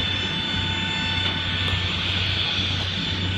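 A Ryanair airplane cabin fills with a steady, loud engine drone and airflow hum, unbroken and close, with a low constant rumble underneath.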